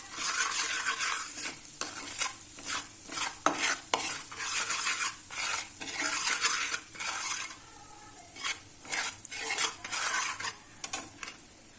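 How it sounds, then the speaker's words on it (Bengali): Whole spices fry in hot oil in a pan over a low gas flame for Bengali dhokar dalna, stirred in repeated scraping bursts over a soft sizzle, with no talking. "এই তেলের মধ্যে আমি দেখো মশলাগুলো থেকে কিছু কিছু তুলে নিয়েছি, এগুলো তেলে দিয়ে দেব।"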